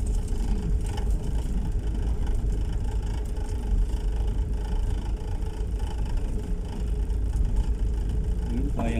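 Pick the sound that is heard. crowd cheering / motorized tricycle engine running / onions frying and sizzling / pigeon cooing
motorized tricycle engine running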